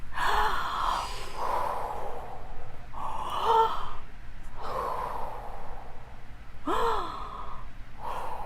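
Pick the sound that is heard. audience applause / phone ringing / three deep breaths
three deep breaths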